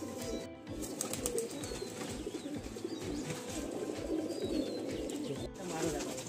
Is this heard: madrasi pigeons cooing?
yes